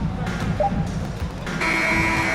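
A sustained electronic buzzer sounds at the end of a basketball video game featuring the Lakers, cutting in over a steady arena crowd roar and holding steady to the close.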